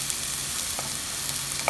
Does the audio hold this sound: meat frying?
yes